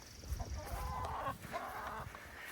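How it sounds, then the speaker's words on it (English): Chickens squawking and clucking at a rural property after a drone flew over them, giving several short, agitated calls in bursts that are fairly close and alone, with no speech. "Let you take a look here at the chickens."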